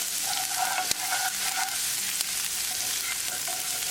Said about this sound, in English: Cook ginger and garlic until the raw garlicky flavor is gone.